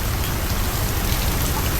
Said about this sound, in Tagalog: ang lakas na ng ulan